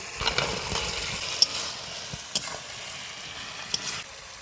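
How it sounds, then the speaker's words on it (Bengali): Previously fried vegetables go into a pan of hot spiced oil, bringing a steady low sizzle with a few sharp clinks and scrapes of stirring, no talk. "এই যে একে একে করে ভেজে রাখা সবজিগুলো এবার দিয়ে দিব"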